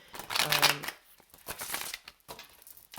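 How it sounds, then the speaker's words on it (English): A quick riffle of tarot cards being shuffled close by, followed by softer sliding and tapping as the deck is handled. "Feel like I have to shuffle these one more time for some reason."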